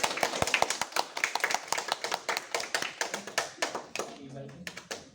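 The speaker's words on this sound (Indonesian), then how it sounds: "kasih tepuk tangan juga untuk kelompok ini" Brief applause for a group from a small classroom audience, a quick run of sharp, close hand claps that thins out toward the end, with a voice faintly in the background.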